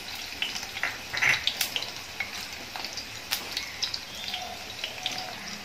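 Garlic frying in oil in a pan for a prawn curry, a steady soft sizzle with occasional crackles and a stirring scrape or two, fairly quiet and with no talk.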